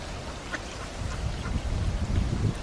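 Faint high chirps and squeaks from young ducklings over a low, steady outdoor rumble, with a few brief peeps standing out.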